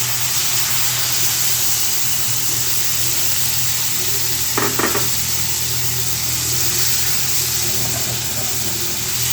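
Chicken pieces frying with lightly cooked garlic in butter in a pan, giving a steady close sizzle and hiss throughout with a brief louder crackle midway.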